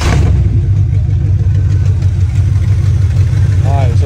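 Chevrolet Monte Carlo SS engine running after a distributor timing adjustment, a loud, close, steady low rumble at idle with slight uneven pulsing, alone without talk.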